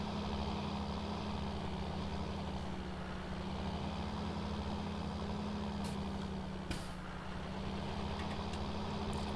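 Steady low tractor engine drone while driving over grass silage to compact it in Farming Simulator 19, continuous and fairly loud with a brief clunk partway through and no talking.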